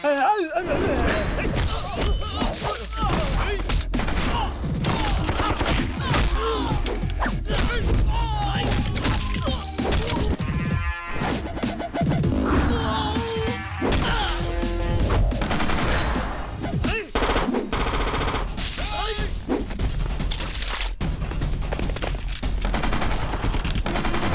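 Bursts of gunfire and loud impacts ring out in an action scene from a Hindi-dubbed South Indian film, the shots dense and close amid music and shouting voices throughout.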